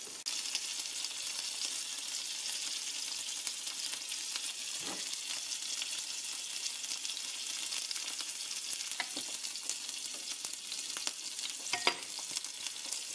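Leftover poultry sausage meat patty, dredged in flour, frying in a pan with a steady, even sizzle throughout and a few faint clinks of stirring or turning.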